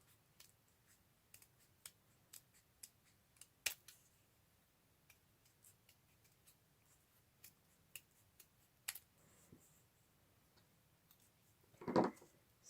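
Scissors snip paper for a pop-up flower card in a quiet room, making a series of faint, scattered cuts and clicks with a slightly louder rustle near the end.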